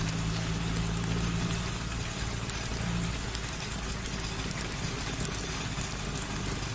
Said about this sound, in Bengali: এখন মনে হচ্ছে এই বৃষ্টি এত তাড়াতাড়ি ছাড়বার নয়।